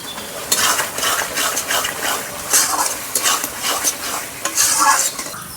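Masala for Bengali fish rezala fries in a pan, sizzling steadily while a spoon stirs and scrapes against the metal in repeated bursts, close and clear.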